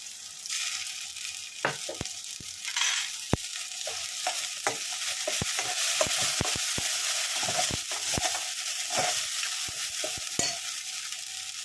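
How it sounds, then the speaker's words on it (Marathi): Ground masala paste roasts in a pan with onion and chili, giving a continuous hissing sizzle broken by frequent sharp crackles, pops and spatula scrapes up close. "ते चांगलं मसाला याच्यामध्ये भाजून घ्या"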